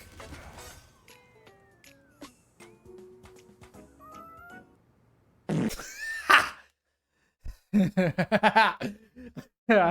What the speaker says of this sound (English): I was not expecting the fart joke at the end.